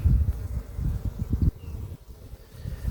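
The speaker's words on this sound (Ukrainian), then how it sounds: "як себе бджолки ведуть. Тихо, спокійно собі" Honeybees hum calmly at an open hive in early season, a steady low buzz close by with a slight rise and fall and no talking.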